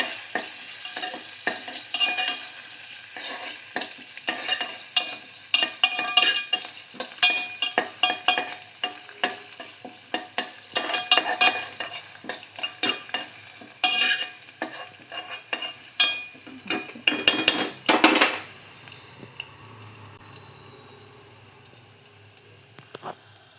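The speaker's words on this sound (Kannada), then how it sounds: "ಈ ರೀತಿ ಫ್ರೈ ಮಾಡ್ಕೋಬೇಕು. ನಾನು ಈ ರೀತಿ ಚೆನ್ನಾಗಿ ಫ್ರೈ ಮಾಡ್ಕೊತಾ ಇದ್ದೀನಿ ನೋಡಿ." Curry leaves and seasoning fry in hot oil for spinach saaru (palak soppu saaru), with a dense crackling sizzle and repeated scraping stirs that grow busier, then fade to a quieter hiss near the end.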